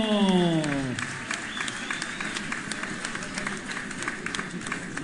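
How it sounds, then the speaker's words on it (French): Crowd applause greets a K1-style fighter as he is introduced at an MMA event, a steady wash of clapping after a descending announcer sweep fades. "avec vos applaudissements"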